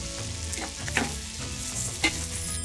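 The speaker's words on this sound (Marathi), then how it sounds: "आणि त्याचबरोबर हे परतत असताना यामध्ये लसूण आणि 2-3 आल्याचे पाकळ्या आणि सोनेरी रंगावर हे परतून घेऊया" Onion sautés with garlic and ginger in a pan until golden, a constant close sizzle broken by a couple of brief stirring scrapes.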